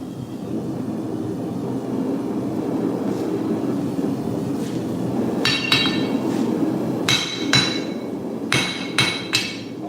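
Hammer blows on hot steel while forging random-pattern Damascus with a loosening 4-pound hammer, a cluster of sharp ringing strikes in the later part over a steady background rumble.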